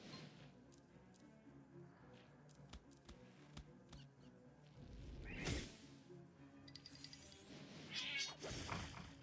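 A cat character in the video game Phobies lets out brief meowing cries among quiet tapping and pattering game effects, with louder bursts near the middle and the end.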